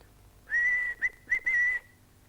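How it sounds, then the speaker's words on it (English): A person whistles a few clear notes: one long tone, two short chirps, then another sustained note, close and alone against a quiet background. "Sounds like a whistle."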